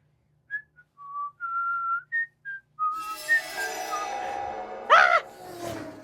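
A person whistles a short tune of clear, separate notes, rising and falling and close to the listener, before a louder, noisier mix of sounds takes over.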